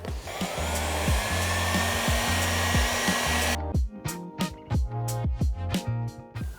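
A blow dryer drying a damp car driver's seat, a loud continuous blowing roar for about three and a half seconds before cutting off, followed by quieter intermittent knocks and background music.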